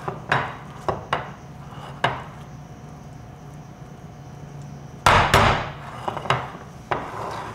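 A metal spatula taps and scrapes against a pan while guacamole is spread, giving a series of sharp knocks spaced irregularly, then a cluster of louder clatters near the end, all close and without talk.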